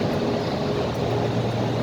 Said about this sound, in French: On va démarrer les grands moteurs.